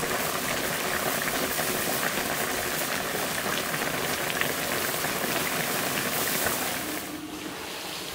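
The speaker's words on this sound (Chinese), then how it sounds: "盖上锅盖，煮70分钟。" Pork stew simmering under the lid of a covered iron pot makes a dense, even bubbling hiss, loud and constant, easing slightly near the end.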